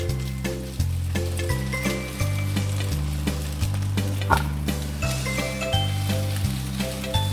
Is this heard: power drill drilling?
no